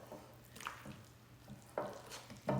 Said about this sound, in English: And you just really just mix this until it's blended really well.